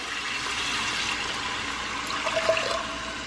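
Water poured into a pressure cooker while making fried rice, a steady splashing stream running for a few seconds at close range, no talk.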